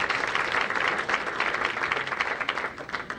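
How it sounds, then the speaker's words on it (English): Married members of a live audience applaud together in a room, a dense, steady wash of clapping that fills the whole moment without any voices. "How many folks in the room are married? By a round of applause"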